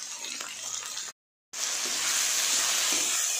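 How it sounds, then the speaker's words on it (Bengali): Eggplant, yardlong beans, sweet potato, tomato and green and red chilies stir-fried in a pan give a steady, close hiss of sizzling that cuts out briefly and resumes louder, with no talking. "সবজিগুলো সব ভালো ভাজা হয়ে গেছে"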